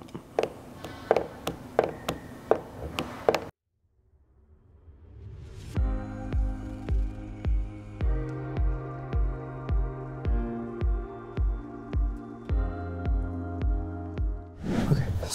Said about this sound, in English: So you're just gonna squeegee out.